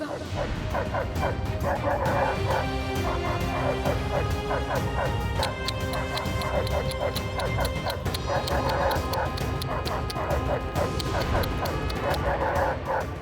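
Several dogs bark repeatedly and close by in a rapid, overlapping stream, with sharp yips and whimpers between the barks, continuing throughout.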